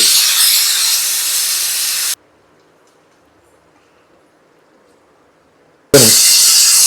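Chicken pieces for a fried chicken pickle dropped into hot oil make a loud, close hissing sizzle, then a few seconds of near silence before a sudden burst of sizzling returns.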